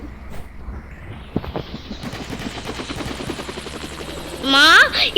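A Roblox helicopter gives off a steady rotor whir in flight, with a rising swell near the end and children talking underneath.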